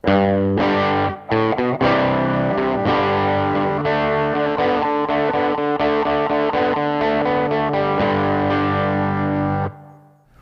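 A loud, heavily distorted electric guitar chugs through a driving power-chord riff, with short stops between chords before a final ringing chord cuts off.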